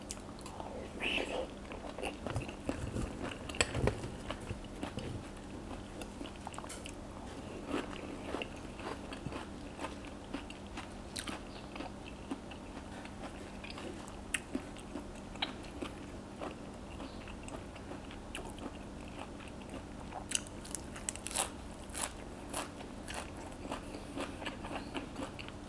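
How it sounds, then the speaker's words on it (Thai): Someone close to the mic chews and bites into plump raw oysters eaten with leadtree shoots and bitter gourd, moist crunchy mastication repeating over and over, with occasional soft speech in between. "ใส่ซ้อนตักกินเลยจ้ะ"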